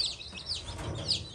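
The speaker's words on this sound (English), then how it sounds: "Look at all those chickens." A flock of chickens clucks and peeps close by, overlapping chirpy calls over a low murmur of background noise.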